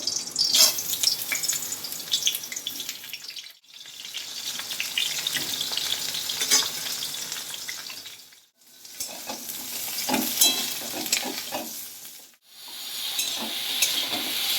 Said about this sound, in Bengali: এরপর দিয়ে দিচ্ছি বেগুনগুলো